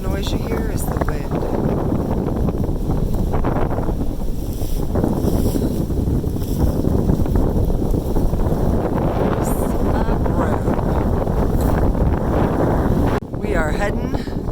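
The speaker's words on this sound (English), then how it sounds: "That noise you hear is the wind" Strong wind roars steadily across a mountain trail in the Smoky Mountains, a continuous broadband rush with gusty buffeting against the microphone, loud and unbroken throughout.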